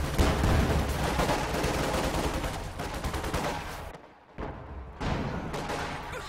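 Dense, continuous small-arms and machine-gun fire in the World War II strategy game Company of Heroes 2, loud and layered, breaking off briefly near the end before resuming.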